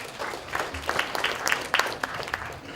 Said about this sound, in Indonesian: kita berikan tepuk tangan yang meriah dulu